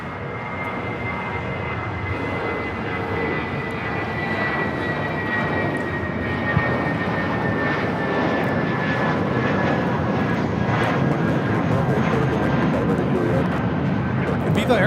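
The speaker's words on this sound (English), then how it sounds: "Viva Aerobus flight 511 taking off to Guadalajara on the A320" A Viva Aerobus Airbus A320 jet takes off from Los Angeles International Airport, bound for Guadalajara. Its engines give a steady, loud, broadband roar with a thin whine that slowly falls in pitch, holding level for the whole stretch.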